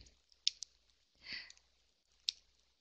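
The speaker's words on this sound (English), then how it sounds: "Joy, I see you're still typing, so I'll catch up with you in a second." Computer keyboard typing, a few sparse, quiet clicks with a soft rustling swish in the middle, heard alone in a quiet room.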